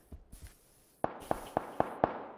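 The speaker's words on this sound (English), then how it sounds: "Shots fired." Gunshots in the battle royale game PUBG: a few soft, muffled pops, then five sharp evenly spaced cracks at moderate distance, with no talking.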